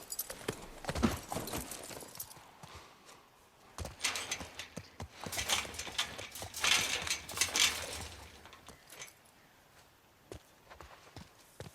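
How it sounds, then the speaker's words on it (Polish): Horse hooves clip-clop in The Last of Us Part One as the horse walks and then trots, the steps irregular and moderately close, with a brief whinny possible. "Skakuj na konia."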